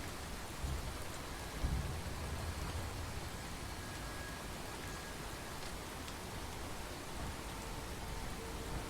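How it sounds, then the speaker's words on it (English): Steady rain falling in the Fallout 4 game world, a constant hiss of drops with a faint low rumble early on, soft and even throughout with no voices. "Trouble is, this view's lousy in this rain."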